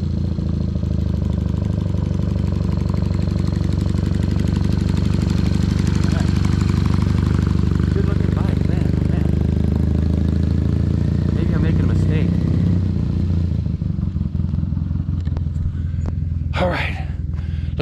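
A 2006 Triumph Bonneville cafe racer motorcycle rumbles steadily nearby at low revs as it rolls back in from a test ride, its engine note continuous and loud before easing off near the end, with a few sharp clicks.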